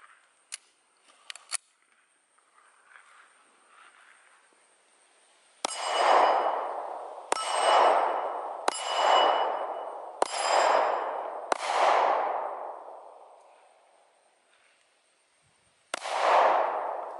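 Gunshots fired down range at steel targets on a shooting range: six loud, sharp reports at roughly steady intervals, each trailing a long ringing decay, preceded by a few faint clicks.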